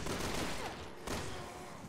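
Rapid gunfire from the video game Resident Evil 6, a dense burst of shots filling the clip with a brief break near the middle, loud and close with no talking over it.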